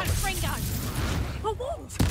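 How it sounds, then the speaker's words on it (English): A spell effect from Hogwarts Legacy, an area-of-effect Petrificus Totalus, rings out amid dense game sound and a bright burst near the end, with a voice talking over it. "Petrificus Totalus. AOE."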